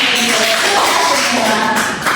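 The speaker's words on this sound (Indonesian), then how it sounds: "Tepuk tangan" A fifth-grade primary school class claps hands together in a classroom, with a short burst of tapping claps mixed with children's voices in the background.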